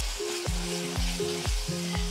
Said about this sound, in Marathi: आता हे छान परतून घेऊयात मिनिटभर